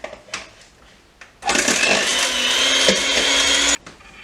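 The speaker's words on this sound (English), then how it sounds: "Now I'm going to take the handy dandy hand mixer again and mix the butter mixture." An electric hand mixer whirs into a butter mixture for a sweet potato cake, starting abruptly after a few quiet clinks and running at a steady, loud high pitch for about two seconds before cutting off.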